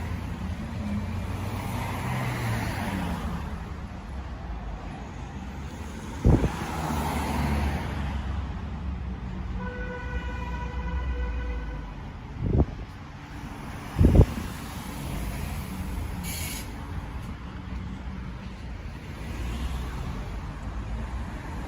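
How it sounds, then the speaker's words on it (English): Cars drive in and out of a police station, with a low rumble of engines and traffic, a few sharp thuds or door bangs, and a brief beeping tone midway. "Cars going in and out of the police station"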